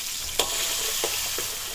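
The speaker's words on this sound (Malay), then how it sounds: "Kemudian kita tumis cili kering yang dikisar" Ground dried chili paste stir-fries in a wok with a steady, hissing sizzle, broken by a few sharp scrapes or stirs at irregular intervals, close and without any voices.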